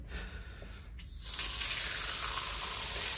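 Water drains from an opened compressed-air water filter under a regulator in a paint booth, a quiet hiss first, then a loud sustained spray and gush of air-driven water close by.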